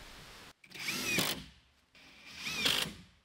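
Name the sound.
power drill driving screws into OSB wall sheathing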